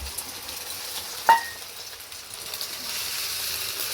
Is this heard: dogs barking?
no